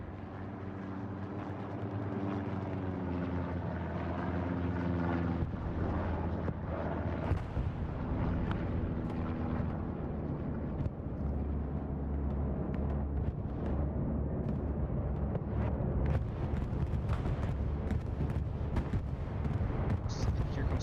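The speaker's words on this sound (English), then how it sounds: "CTM's bombing run." Bombing-run explosions in a competitive match rumble as heavy, sustained low booms under engine drone, with an announcer talking over the continuous roar.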